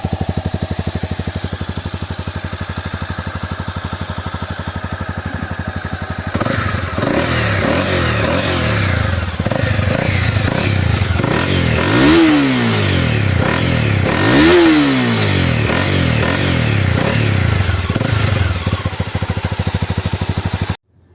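A Honda CB250R 250cc motorcycle engine idles roughly, then revs up sharply twice, the pitch climbing and falling with each throttle blip, loud and close.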